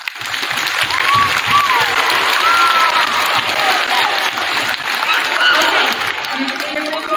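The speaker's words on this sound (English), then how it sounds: "let's just give yourself a round of applause" Steady, loud applause from a school audience of children fills a town hall meeting at Ashland Middle School, continuous clapping and crowd noise lasting throughout with a few whistles or shouts mixed in.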